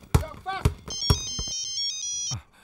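Mobile phone ringtone in an Indian action film scene, a bright repeating electronic melody that starts partway through and plays close and clear after several sharp hits and a voice.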